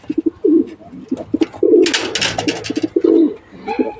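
Pigeons coo close by, repeated low throaty warbles overlapping one another, with a burst of flapping wings in the middle.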